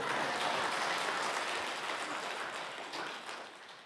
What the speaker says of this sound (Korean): 나는 박수 칠 줄 알았어.